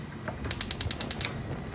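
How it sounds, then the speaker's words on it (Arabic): A gas stove burner being lit on a home cooker: a quick run of about eight sharp, evenly spaced igniter clicks over under a second, close and fairly loud, followed by a faint hush. "احطه على البوتاجاز اهو، اولع عليه"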